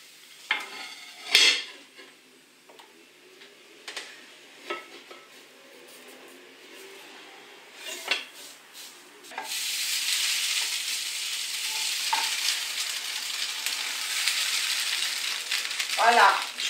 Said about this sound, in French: Je vais retourner le pain pour pouvoir dorer de ce côté.